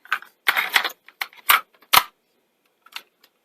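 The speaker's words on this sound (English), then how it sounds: "So let's put tape in." Cassette tape being inserted into a Sony Walkman: a quick series of sharp plastic clicks and rattles close up, then a couple of faint taps after a pause.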